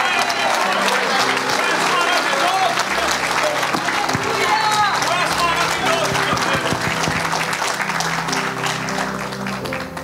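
A church congregation applauding during a sermon, steady dense clapping that holds for the whole stretch, with voices mixed in and a slight fade near the end.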